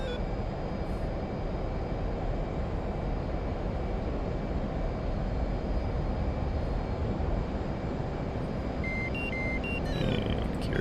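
F/A-18C Hornet jet engine in the DCS flight simulator, a loud, steady broadband roar with a faint high whine that holds throughout, with brief electronic cockpit tones near the end.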